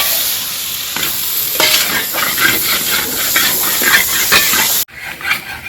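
Beef roast frying in a pan, a loud, close, dense sizzle and hiss with repeated scraping stirs, cutting off abruptly near the end before resuming more quietly.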